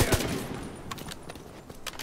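Gunfire in the shooter The Division 2 on PC: a short spread of separate shots cracking at moderate loudness over steady game ambience, with a stronger burst at the start.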